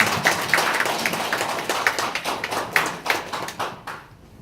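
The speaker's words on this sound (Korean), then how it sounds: "나오실 때 큰 박수 한번." Clapping from an audience at a company meetup as a guest speaker walks up, distinct individual claps in a loose rhythm, moderately loud, tapering off into quiet at the end.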